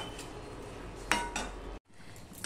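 A spoon clinks and scrapes a few times against a pan while chicken and potatoes are stirred together, quiet and close, with a brief silence near the end.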